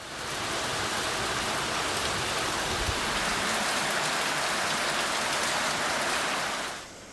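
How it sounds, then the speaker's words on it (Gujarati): Unseasonal rain pours steadily during a wet morning in Gujarat, a dense, even hiss of drops on surfaces that holds constant for several seconds before easing slightly at the end. "પવનના સુસવાટા સાથે કમોસમી વરસાદે પધરામણી કરી।"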